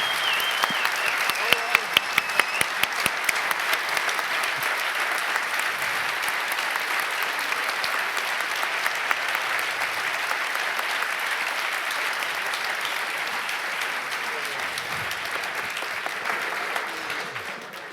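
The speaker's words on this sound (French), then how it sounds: "Je voudrais vraiment que tout le monde se lève et fasse un tonnerre d'applaudissements pour ce gars." Sustained audience applause fills a keynote hall, a dense wash of clapping holding steady for the full length with a few sharper claps early on, loud and unbroken.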